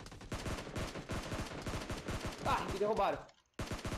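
Gunfire in the mobile battle-royale game PUBG Mobile: rapid bursts of shots crackle loudly and repeatedly before breaking off abruptly, while a player speaks over the shooting.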